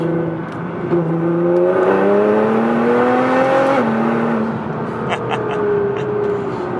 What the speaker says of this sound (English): Should we do a third gear rolling launch once we get straight?